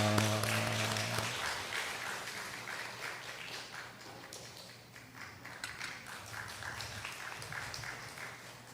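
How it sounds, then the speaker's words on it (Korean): A church congregation applauding during a Sunday worship service, a steady, fairly faint wash of many hands clapping that continues for several seconds after a brief tone fades. "다시 한번 박수하겠습니다."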